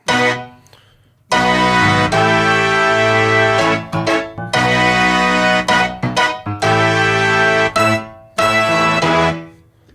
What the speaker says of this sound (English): that's the best way to reproduce brass when you're trying to cover keyboard parts